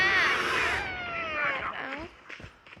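A cat gives a long, drawn-out meow that slides downward in pitch, then a shorter second call, heard near and fairly clear. Quiet background sound sits underneath.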